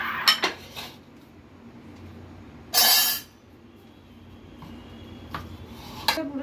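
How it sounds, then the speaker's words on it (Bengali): Boiled potatoes are mashed in a bowl, heard as scraping and clinking of a utensil against the dish, with a few sharp knocks and one louder scraping burst between quieter stretches. "প্রথমে আমরা সেদ্ধ আলুটাকে খুব ভালো করে স্ম্যাশ করে নেব।"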